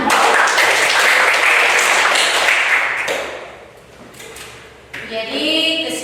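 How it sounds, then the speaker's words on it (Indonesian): A class claps together, a dense burst of applause that fades out over a few seconds before a short scatter of taps and a brief ringing tone. "Oke, tepuk tangan."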